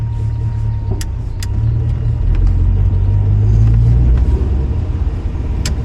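A 1977 Camaro Z28 driving at an easy pace, its engine a steady low rumble with mild swells as it accelerates, plus a few faint clicks from a turn signal and no talking.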